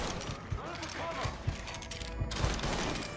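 Gunfire in the Mafia video game, a few sharp shots and mechanical clatter mixed into a busy scene, with voices talking over it.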